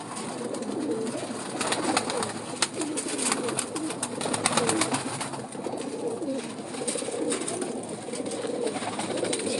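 A male breeder pigeon cooing in repeated soft, throaty calls at close range, with other birds calling faintly behind and no talk.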